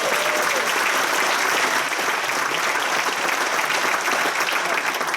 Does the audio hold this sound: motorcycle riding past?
no